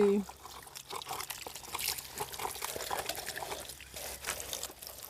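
Water pours and trickles over a black toy car being washed, a soft, continuous splashing that rises and falls in small surges while voices talk quietly nearby.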